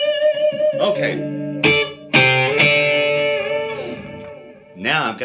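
Electric guitar played through a simple overdrive pedal for a dirty, distorted tone, with sustained strummed chords and bright, gritty ringing notes, loud and close, with no talk.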